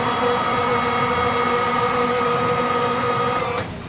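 An electric boat davit lowering a dinghy gives a steady, loud motor whine with a humming mechanical drone, running close and unbroken for several seconds before dropping off at the end.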